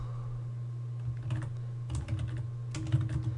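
Commands are typed on a computer keyboard in short clusters of quick, close key clicks over a steady low electrical hum, with no voices.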